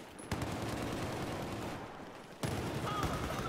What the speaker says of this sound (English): Wait, who are you shooting at?